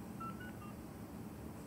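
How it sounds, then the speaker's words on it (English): A phone dials a call in the video game Life is Strange: a brief run of three or four short, faint keypad tones over a low background hum. "And Zachary won't answer his phone"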